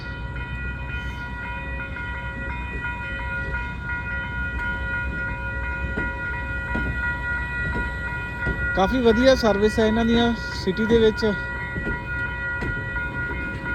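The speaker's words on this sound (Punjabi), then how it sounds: "ਇਹ ਛੋਟੀ ਜੀ ਟ੍ਰੈਮ ਬੋਲ ਦਿੰਦੇ ਆ ਇਹਨੂੰ ਛੋਟੀ ਜੀ ਰੇਲ ਗੱਡੀ" A small city tram or light-rail train moves through a station in Canada beside an automatic crossing gate. Its steady rolling rumble and rail noise swell into a brief tonal squeal or horn midway, while someone talks over it.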